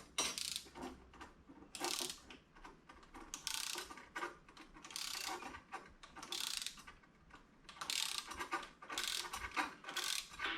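A rear brake line fitting on a rusty Ford F-1 pickup being tightened with a ratchet wrench, bursts of rapid clicking repeating in strokes, close and moderately loud, with no talking.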